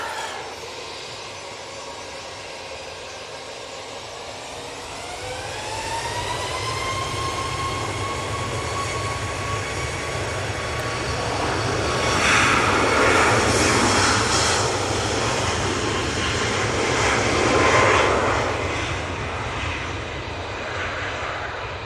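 At Manchester Airport a Ryanair jet airliner begins its takeoff roll. A rising engine whine climbs in pitch and settles into a high tone over a broad rumbling roar that swells twice as the jet accelerates past.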